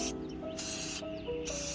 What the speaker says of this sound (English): give them a nice new black paint job with just some regular old spray paint